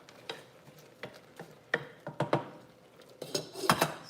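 A spoon scrapes and clinks around a pot of Thanksgiving food being mixed, irregular close strokes that grow busier toward the end, with a faint sizzle underneath.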